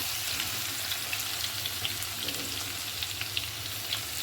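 Garlic sizzles and fries steadily in hot oil with mustard seeds in a kadhai, a continuous close crackle with small pops and no talking.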